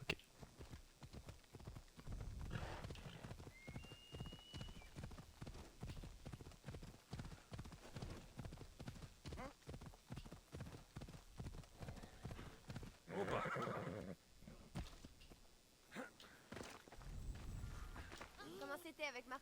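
A horse in a video game trots with steady hoof clip-clops and whinnies partway through, while a person talks over the game sounds.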